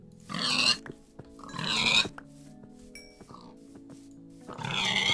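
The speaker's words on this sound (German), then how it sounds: "Noch mehr Schweine." Several loud, close Minecraft pig oinks, grunting in three bursts with quiet gaps and small clicks between them.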